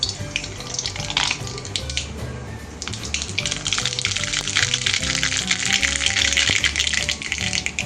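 Mustard seeds and other tempering spices sizzle and crackle in hot oil for buttermilk vaghareli rotli, a steady loud frying hiss throughout with scattered sharp pops, no talking.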